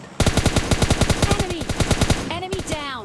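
Rapid automatic gunfire in PUBG Mobile rattles out in a long, even burst of close, sharp shots. A short voice-like sound follows near the end.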